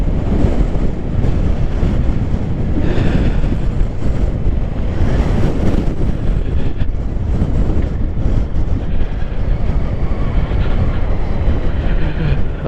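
Harley-Davidson Street Bob 114 motorcycle on a demo ride, a steady loud engine drone heavily mixed with wind buffeting against the microphone throughout.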